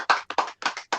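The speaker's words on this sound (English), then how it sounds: "let's give a good round of applause to Talking Shop with the Boss in the Box" Several hands clap in quick, uneven bursts, about seven sharp claps in one second, close and fairly loud with no talk over them.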